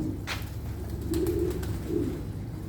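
Pigeon cooing from an Ankara tumbler pigeon, a few soft low coos repeating close by over a steady low background rumble, with no voices.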